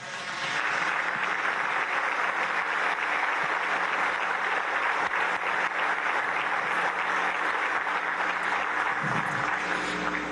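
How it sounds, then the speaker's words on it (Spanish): Sustained, emotional audience applause fills a large venue during a beatification ceremony for Venezuelan physician José Gregorio Hernández, dense and steady throughout with no voices rising above it. "como ahora, provocó un aplauso lleno de emoción."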